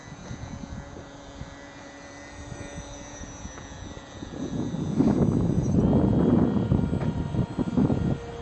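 A Sky Surfer RC model plane fitted with LEDs flies on a test flight, its electric motor a thin whine that swells into a louder, rougher drone in the second half.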